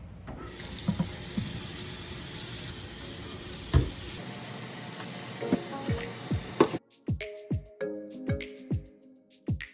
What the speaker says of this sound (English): So what I'm gonna do is just give these a good wash, hand dry them the best I can.